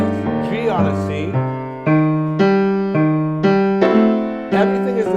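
A walking bassline played on keys that targets the fifth, G on a C, as a steady line of distinct plucked notes with upper chords over it, moving in even steps and leaps, clear and alone.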